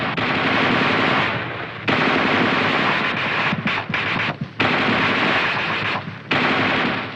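Coaxial machine gun on an M551 Sheridan light tank firing long, loud bursts of rapid rounds, with short pauses between volleys.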